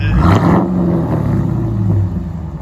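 A Jeep Grand Cherokee 5.7L HEMI V8 exhaust revs up and holds a deep, loud rumbling roar, then drops back after about two seconds, with no talking.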